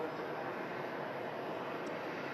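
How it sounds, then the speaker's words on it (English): Virgin Atlantic A350 airliner taxiing at Manchester Airport, a steady, broad engine roar held at an even level throughout, distant and unbroken with no voices. "the stunning Virgin Atlantic A350 should have enough time now to taxi over to the second runway"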